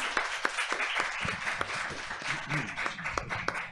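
An audience at a conference talk applauds with a patter of scattered, moderately faint hand claps that continues unbroken for several seconds.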